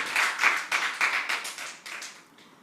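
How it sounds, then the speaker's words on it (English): An audience at a church family-life program claps in short bursts of hand claps that trail off after a couple of seconds, fairly close, with no talk over it. "Please clap very well."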